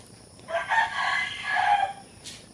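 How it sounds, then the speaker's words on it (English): A rooster on a farm crows once, close and loud, a drawn-out two-part call lasting about a second and a half over quiet background hiss. "thinking that particular rooster is very vocal"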